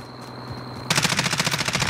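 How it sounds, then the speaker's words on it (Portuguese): Automatic gunfire erupts in Call of Duty Modern Warfare, a loud, rapid rhythmic burst of shots starting abruptly after a quieter ambient stretch with a faint high whine. "Tá atirando alguém"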